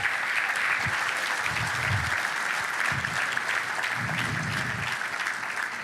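A room of guests at a fundraiser auction applauds after a winning bid, with sustained, fairly loud clapping across the whole stretch and a low murmur of voices underneath.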